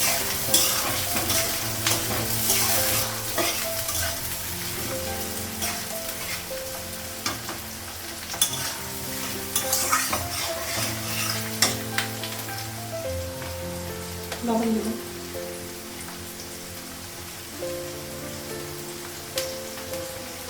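Onion frying with potatoes and green chillies in a pan, a continuous close sizzle with occasional stirring scrapes and clinks, a rain-like crackle throughout.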